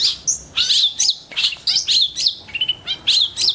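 A long-tailed shrike, a cendet offered for sale in Banyuwangi, sings in a rapid, loud run of sharp chirps and whistled phrases, close and steady, with no talking.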